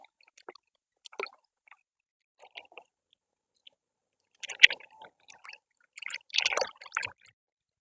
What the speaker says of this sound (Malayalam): നമുക്കിനി ഇത് വെള്ളത്തിൽ മുക്കി നമുക്കിത് അടർത്തിയെടുക്കാം